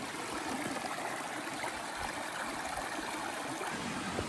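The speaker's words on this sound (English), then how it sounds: "these streams that I'm passing all feed into the Cispus River" A mountain stream in Washington, one of several feeding the Cispus River, rushes and splashes steadily and close by, a dense, unbroken wash of flowing water with no voices.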